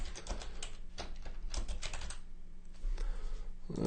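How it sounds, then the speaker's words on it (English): Soft, quiet clicking of fingers typing on a computer keyboard in a home office setting, irregular bursts of keystrokes with brief pauses. "Let me type in some other stuff here."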